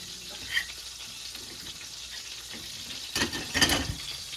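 Chicken fried steak breading is stirred in a frying pan over a soft, continuous frying hiss, with a few brief scraping clatters from the utensil toward the end.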